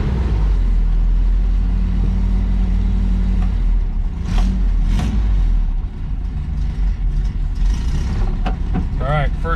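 A 1969 Subaru Baja engine with a sun roof revs loudly and close throughout, a steady rough drone with brief surges, while a person talks over it.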